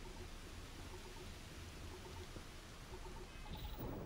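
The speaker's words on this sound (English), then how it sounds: "Corrosive rain, hazardous weather." Corrosive acid rain in the Starfield video game, a steady broadband hiss of falling rain at moderate level, with faint repeating electronic beeps and a brief crackling burst near the end.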